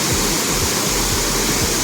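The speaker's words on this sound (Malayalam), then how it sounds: "കോട്ടയത്തെ ചട്ടമ്പി വെള്ളച്ചാട്ടം." Chattambi waterfall in Kottayam pours as a steady, loud, unbroken rush of falling water close by, with no voices.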